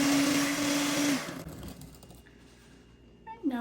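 An electric mixer whirs loudly as it beats granulated sugar into cake batter, then spins down and stops, followed by quiet handling sounds and a brief restart.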